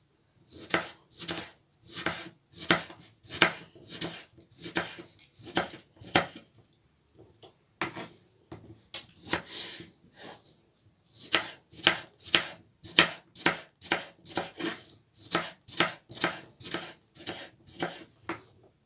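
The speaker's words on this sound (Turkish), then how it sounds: "Evet kabuklarımızı minik minik doğradık" Rapid, regular knife chops of watermelon rind on a cutting board, sharp close thuds in steady bursts with a couple of short pauses, no talking.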